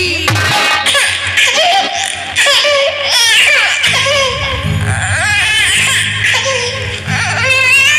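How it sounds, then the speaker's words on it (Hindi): A baby cries in wavering, high wails with laugh-like breaks during a Nautanki folk theatre performance, loud and close, with a low sustained tone entering partway through. "बच्चे की रोने की आवाज"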